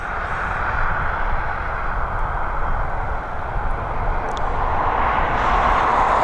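An Embraer E190 airliner at Dublin Airport gives a continuous broad jet roar that swells slightly near the end, steady and fairly loud, with no talk.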